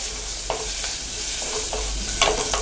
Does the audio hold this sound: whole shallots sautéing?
yes